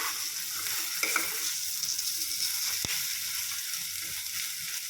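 Onions sizzle and fry steadily in a pan on a medium flame for a Telugu tempering, with a spoon stirring through them and one sharp scrape or clack near the middle.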